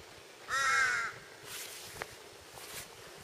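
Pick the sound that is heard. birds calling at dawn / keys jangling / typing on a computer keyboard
birds calling at dawn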